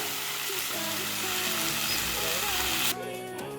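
Spinach with peanut butter frying in a pan on the stove, giving a steady broadband sizzle with faint stirring, close and fairly loud throughout before dropping slightly near the end.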